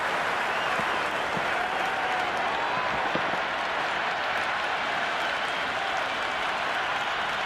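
A virtual stadium crowd applauds in a Big Bash cricket video game, Sydney Sixers against Adelaide Strikers, a dense, even wash of clapping and cheering that holds steady at a moderate level throughout.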